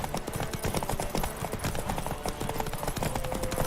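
Rapid, rhythmic clip-clop of horse hooves galloping continuously in The Witcher 3, loud and close, with a game-like mix of background noise.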